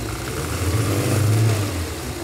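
An engine fitted with a Lucas fuel injection system revs briefly as its throttle is worked by hand, a short rise and fall in pitch over a low running drone, with no talk.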